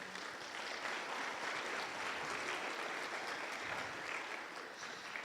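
A church congregation claps together in praise during a Spanish-language service, a dense, steady wash of many hands that stays loud and even for the whole stretch with no talking over it.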